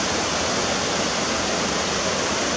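Meltwater from the Grindelwald Glacier rushes past in a mountain stream, a dense, steady roar of turbulent water heard close and loud, with no other sounds over it.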